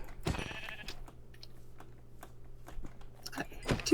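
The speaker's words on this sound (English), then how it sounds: "Oh fuck, sheep." Sheep bleat in a few short, wavering calls close by, separated by quiet stretches with faint handling noises.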